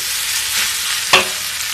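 Sweet and spicy fried rice stirred in a pan over medium heat, a steady sizzle with one sharp scrape of the spatula against the pan near the end.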